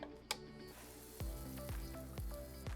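Minced shallot sizzles in olive oil during a cooking demo; a single faint clink, then a soft steady sizzle with repeated light tapping and scraping of a utensil in the pan, all fairly quiet.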